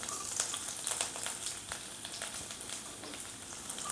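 Chopped garlic, seven or eight cloves, sizzles in hot oil for a prawn chilli, a steady close crackle with brief spitting pops and no voices.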